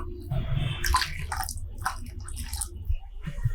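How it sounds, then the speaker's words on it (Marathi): Water poured into a cooking pot on a home stove, giving short uneven splashing and sloshing bursts, fairly close, with faint movement in between. "या भांड्यामध्ये पाणी घालूया थोडं"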